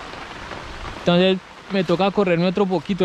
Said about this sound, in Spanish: La lluvia se nos vino y se puso esto impresionante.